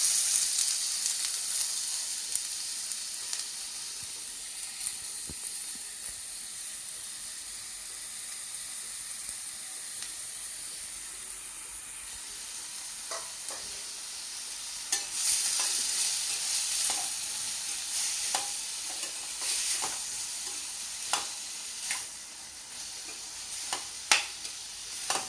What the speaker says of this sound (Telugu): ఆయిల్ హీట్ ఎక్కిన తర్వాత 4 పెద్ద సైజు ఉల్లిపాయలు ముక్కలు వేసుకుంటున్నానండి